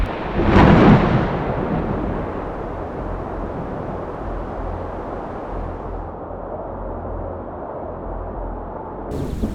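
A mountain thunderstorm during a rainstorm: a loud, close thunderclap bursts early and then rolls into a long, deep rumble with a dense wash of rain.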